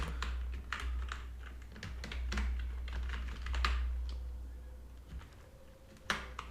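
Typing on a computer keyboard while writing a MySQL table definition, irregular clusters of close, crisp key clicks with short pauses between bursts.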